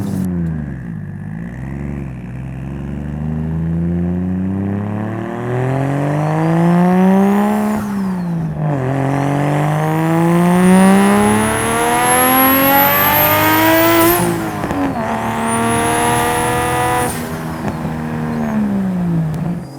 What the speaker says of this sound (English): visuals of a classic car cruising around with a loud exhaust